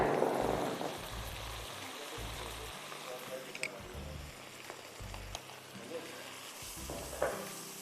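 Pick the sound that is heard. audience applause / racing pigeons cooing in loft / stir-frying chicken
stir-frying chicken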